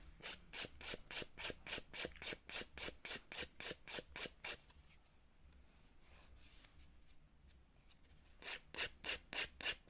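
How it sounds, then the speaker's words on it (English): Rapid, evenly spaced rasping strokes of a file shaping an acrylic nail, close and crisp. The strokes stop briefly in the middle, then the quick rhythmic filing resumes near the end. "I still think I need to file it just a smidge more."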